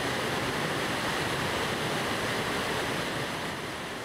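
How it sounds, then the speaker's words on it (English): Screw Auger Falls in Maine, where Gulf Hagas Brook pours through a twisting rocky gorge, makes a steady, dense roar of rushing water that stays loud and constant throughout with no voices. "At the waterfall, Gulf Haggis Brook rushes back and forth in a screw-like"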